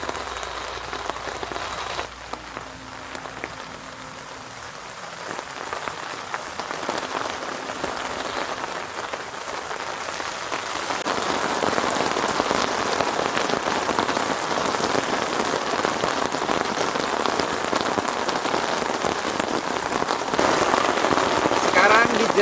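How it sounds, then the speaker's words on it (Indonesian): Steady rain drums on a tent at a campground during a solo camping trip, a dense close patter that swells heavier halfway through and keeps pouring without letup. "Hujan lagi teman-teman."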